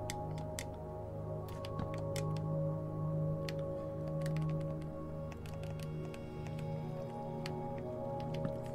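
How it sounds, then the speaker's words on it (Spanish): Water dripping inside a Minecraft cave, a steady scatter of sharp, irregular drips over a low, continuous ambient hum, fairly quiet and with no speech. "Se escucha agua."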